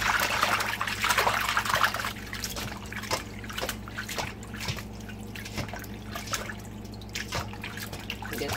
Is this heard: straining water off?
yes